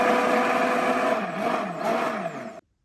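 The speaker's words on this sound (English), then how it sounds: "And then take a hand blender, like this one, all right? Stick it in there." Handheld immersion blender frothing a drink in a cup, a loud steady whirring motor hum with slight pitch wavering, running continuously before cutting off abruptly near the end.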